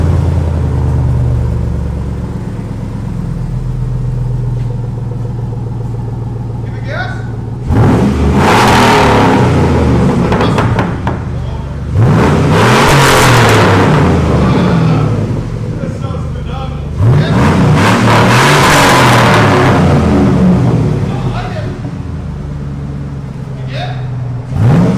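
2006 Chevy Silverado LS with a 5.3L V8 and Black Widow Angry Housewife muffler, idling with a deep exhaust burble, then revved hard three times, each rev a loud, rising roar that falls back to idle.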